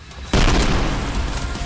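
A grenade in Trepang2 goes off with a sudden, very loud, close blast, and a broad roaring rumble follows and slowly fades.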